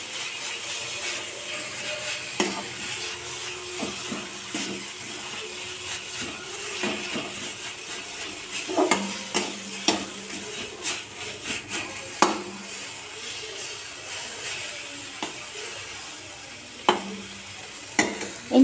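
A spoon stirs pea filling with cumin powder in a hot pan, giving repeated scraping clicks and knocks over a steady, soft frying sizzle.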